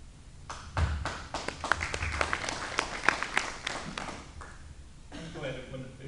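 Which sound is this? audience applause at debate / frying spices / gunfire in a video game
audience applause at debate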